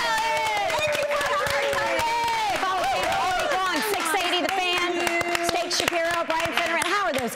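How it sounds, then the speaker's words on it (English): Studio audience cheering and applauding, a loud continuous wash of claps and whoops with voices talking and shouting over it throughout. "They never cheer for me like that."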